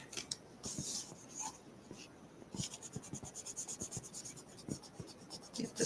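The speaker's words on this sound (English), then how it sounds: "Get this erased off here" Small rubbery kitty eraser scrubbing pencil marks off journal paper in quick repeated strokes, soft close rasping bursts with brief pauses between.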